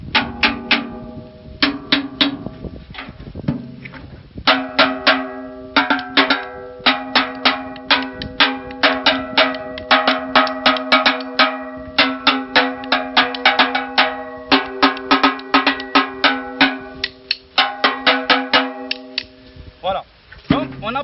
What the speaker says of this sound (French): moi je préfère récupérer les tambours des machines à laver. Il y a plusieurs sons en fait dans les tambours.